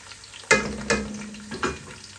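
Onions frying in a pan for a beef curry with red potatoes, sizzling steadily with three louder stirring bursts spaced across the moment, close and alone.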